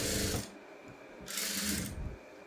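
A sewing machine stitching a blouse lining, two short bursts of fast mechanical whirring and clatter separated by a brief pause, close and moderately loud.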